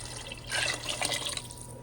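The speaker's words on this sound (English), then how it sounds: "I just pour water in the pan that I seasoned my cow foot in." Water poured into a pan that held seasoned cow foot, a brief splashing, gurgling pour close by, rising for about a second before easing off, with no talking.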